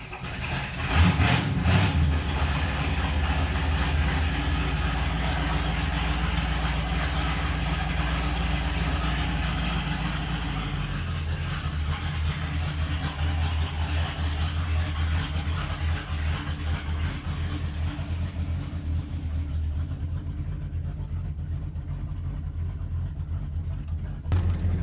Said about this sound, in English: let's cold start this thing and we'll get on the road